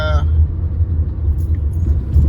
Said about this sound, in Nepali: मेरो भाइले गाडी कुदाइरहेछ